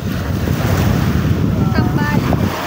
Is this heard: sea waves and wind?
yes